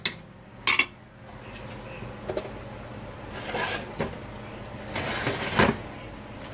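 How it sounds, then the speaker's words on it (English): Metal pan scraped and shifted across a stovetop while mac and cheese cooks, with scattered clinks and soft scraping bursts over a steady low kitchen hum. "I'm going to slide my pan around here."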